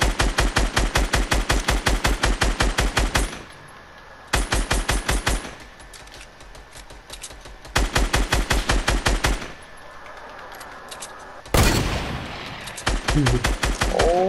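Rapid automatic gunfire in the Fortnite Battle Royale video game, loud bursts of evenly spaced shots separated by brief lulls, repeated across the whole stretch with a few sharp single blasts.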